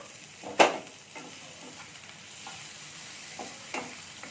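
Sliced onion stirred in a frying pan, soft sizzling with a few sharp scraping stirs of a spatula near the start and again later, fairly quiet and close with no talking.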